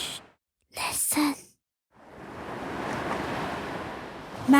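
Sea waves wash onto a beach in a children's cartoon. A brief voice comes first, then a soft, continuous rush of surf carries on to the end.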